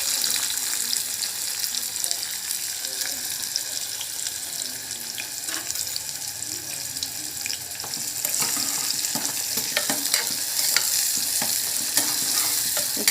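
Bottle gourd and onions frying in oil inside a pressure cooker, a steady, close hissing sizzle with occasional stirring scrapes and clinks throughout.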